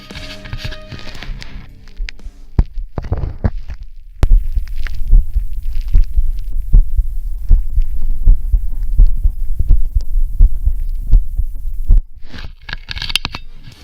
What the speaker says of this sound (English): That's the sound of my heart.